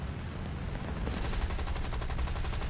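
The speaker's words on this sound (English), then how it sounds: "Is that shooting at me?" Continuous rapid gunfire from aircraft cannons in War Thunder, a dense rattling burst that grows brighter and more rhythmic midway, heard under steady engine drone.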